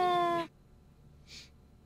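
A cat's meow plays back from a device, a loud harmonic cry lasting about half a second, followed by near silence and then a faint, brief second high-pitched sound.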